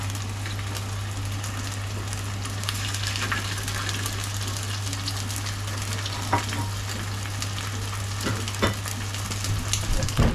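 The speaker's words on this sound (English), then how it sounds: "Just slide them around just to make sure they get some oil underneath them." Sausages sizzle and spit in oil in a frying pan as they are slid around, a dense continuous frying hiss with occasional louder pops and scrapes near the end, under a low steady hum and with no speech.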